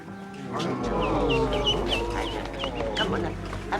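A nesting hen with chicks clucks softly in a series of short calls, with people talking quietly over the top.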